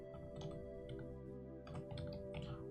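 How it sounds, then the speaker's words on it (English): Quick, faint clicking of keys on a computer keyboard during coding, irregular bursts of keystrokes over a steady background hum. "I cannot type on this keyboard."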